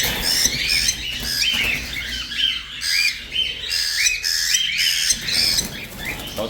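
Birds chirping and squawking at a harvest site, a dense flock calling in overlapping bursts, bright and fairly close, with no talk over them.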